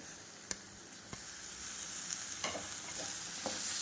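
A pan sizzles steadily as spices and biryani masala fry in oil for tomato rice, with a few sharp stirring taps breaking through the constant hiss.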